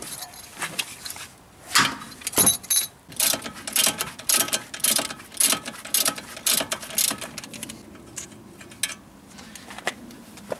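A ratchet with a 16 mm socket clicks in bursts while a bolt on a car's auxiliary control arm is loosened during a CV boot replacement, with metallic clatter between strokes.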